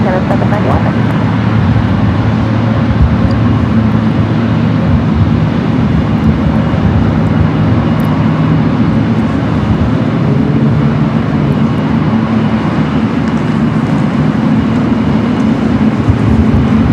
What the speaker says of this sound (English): This is Air France Flight 23, a 777-300ER heading back to Paris.